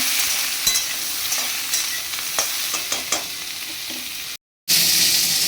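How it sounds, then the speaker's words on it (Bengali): Bata fish lentil dumplings (bori) fry in a pan with a constant close, loud sizzle, broken by scraping stirs and a brief cutout near the end. "এখানে একটুখানি বড়ি ভেজে নিচ্ছি"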